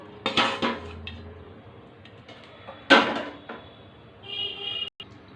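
A serving spoon clinks and scrapes against plates as food is dished out, in short separate bursts with quiet pauses and no talking.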